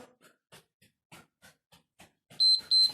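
Two short, bright electronic beeps sound near the end of a cardio workout, following a series of faint quiet taps or steps.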